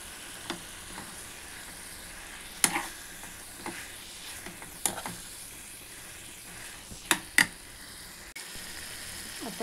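Bitter gourd sabzi sizzles steadily in a hot pan while being stirred, with scattered clinks and scrapes of the spoon against the pan over a continuous frying hiss.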